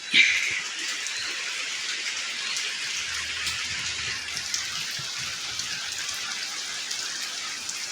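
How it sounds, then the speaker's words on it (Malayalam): Heavy monsoon rain pours steadily near a stream, a dense, even hiss of drops on surfaces that lasts the whole time without a break, with no voices. "ഞങ്ങൾക്കിവിടെ നല്ല മഴയാണ്."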